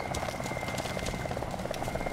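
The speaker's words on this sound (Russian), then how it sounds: "Опять вертолет." A helicopter in an Arma 2 co-op mission drones steadily overhead, a continuous rotor hum and whine at moderate distance with no break, heard alone.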